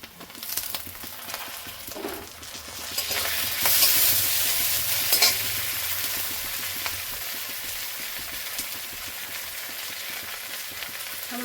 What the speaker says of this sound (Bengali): নারকেলটাকে ভেজে নেব।